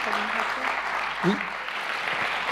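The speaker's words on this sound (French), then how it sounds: "Alors oui, on peut les applaudir" Steady crowd applause for students at the 2018 Rhema certificate ceremony in Oron, fairly close and continuous, with a short voice cutting through midway.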